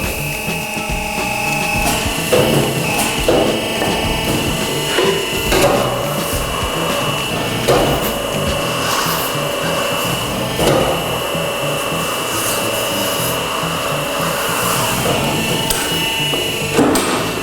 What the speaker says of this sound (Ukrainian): Щоб борти відстали від диску, потрібно обкатати.